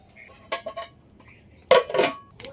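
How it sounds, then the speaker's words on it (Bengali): A cooking pot for khichuri set down on a stove, giving a couple of light metallic clanks and rattles, the second knock louder and ringing briefly in a quiet kitchen. "এবার আমি হাঁড়িটা উনুনে বসিয়ে দিচ্ছি"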